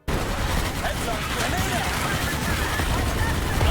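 A pistol fires and an MX-90 grenade explodes in a Starship Troopers horde shooter video game, producing a loud, sustained barrage of rapid gunfire and blasts that starts abruptly and runs without pause.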